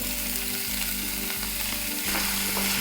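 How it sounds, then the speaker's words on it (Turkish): Chopped onions sizzling in hot olive oil in a pan, a loud, constant frying hiss close by with light stirring, no speech. "Şimdi soğanlarımızı ilave ediyorum."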